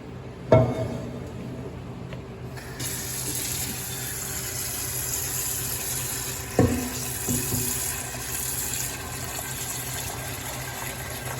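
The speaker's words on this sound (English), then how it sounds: "we're just going to fill the pot" Cold tap water gushes steadily from a kitchen faucet into a pot being filled for pasta, a continuous loud rushing hiss after a couple of soft clunks, with a few knocks of the pot partway through.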